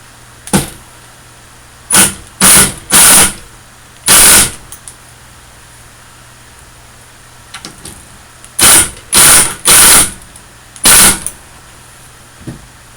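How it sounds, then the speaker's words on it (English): A power drill drives screws into HD antenna parts in loud, whirring bursts, a single short run, then clusters of two to four quick drives separated by quiet gaps, close by and with no talk. "We're going to go ahead and screw these down"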